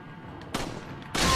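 Two sharp gunshot blasts from Biohazard 4 (Resident Evil 4), a zombie video game, the second landing as a headshot; each is a sudden broadband crack with a brief tail, spaced about half a second apart.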